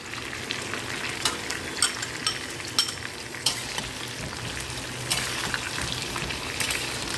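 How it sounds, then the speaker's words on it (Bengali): Pointed gourd and gobindobhog rice fry in a pan, giving a steady sizzle broken by repeated scraping clacks of a spoon stirring them, close and fairly loud, with no voices. "এবার দেখো আমরা একটু নাড়িয়ে দেখবো এটা হয়েছে কিনা ভাজাটা।"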